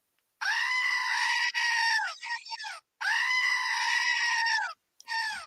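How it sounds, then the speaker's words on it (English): Two long, loud goat screams, one right after the other with a short broken gap between them, close and harsh, played as a requested comic sound effect during a studio talk show. "can I have a double goat scream?"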